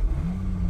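A 2023 Toyota GR Supra with a six-speed manual and a straight-six engine fires up, giving a brief, close, steady throaty snarl with no speech.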